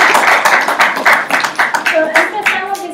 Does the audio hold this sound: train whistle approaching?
no